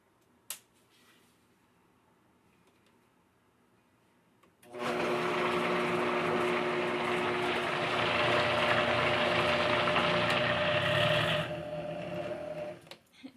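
A Vitamix blender roars loudly for several seconds after a quiet start with a brief click, then winds down and stops.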